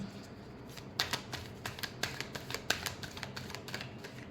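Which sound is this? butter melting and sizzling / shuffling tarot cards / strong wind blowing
shuffling tarot cards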